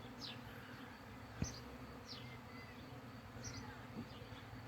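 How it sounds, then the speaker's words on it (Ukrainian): A dense, steady buzzing of a honeybee swarm fills the air, with individual bees zipping past now and then, no voices. "Звук шалений бджолок, дуже багато в повітрі."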